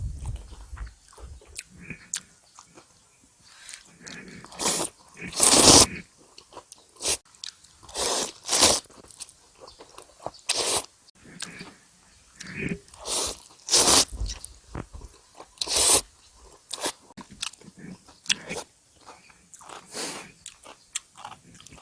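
Crunchy fried sugar noodle snack being eaten up close, with loud, irregular bites and steady crunching chews repeating over about twenty seconds, no talking.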